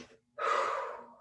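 Heavy breathing during a workout, one sharp, loud breath drawn in close to the mic after a brief pause, fading out slowly.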